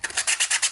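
Sandpaper wrapped around a sanding block rubbing over a 3D printed part, quick rhythmic back-and-forth rasping strokes, about five in under a second, close and dry with no voices.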